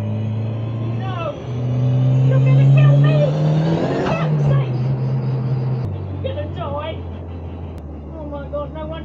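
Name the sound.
Cosworth-powered Mk1 Ford Escort accelerating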